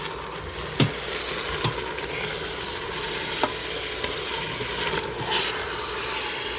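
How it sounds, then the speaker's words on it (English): Ground beef sizzles steadily as it browns in an Instant Pot, with a few sharp scrapes and clacks from a utensil stirring the meat against the pot. "we're going to continue to stir, and as you can see, it's starting to brown"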